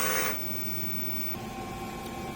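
A DTF printer runs its normal head clean cycle, with a steady mechanical whir and hum and a brief louder burst at the start, close by with no talking.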